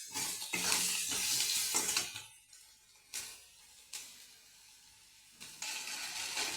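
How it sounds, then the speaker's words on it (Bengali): Chili, cumin powder and salt stirred in oil in a frying pan, with a sizzling hiss and the scrape of a spoon in bursts, then quieter pauses broken by single scrapes. "ভালো করে নাড়াচাড়া করে নেব।"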